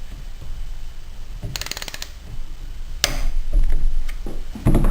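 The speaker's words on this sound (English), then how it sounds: "The last thing on the to-do list is torquing the bolts." Ratcheting clicks of a torque wrench tightening bolts on a CX500 Turbo motorcycle, two short bursts of rapid mechanical clicking close by with a few knocks of the tool.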